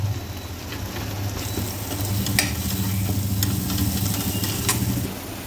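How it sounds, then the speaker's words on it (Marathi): Chillies with turmeric and asafoetida sizzle steadily in hot oil as a spoon stirs them, a continuous close frying hiss with a low hum underneath and light scraping, no voices. "सतत हलवायची आहे, मिरची जळाली नाही पाहिजे"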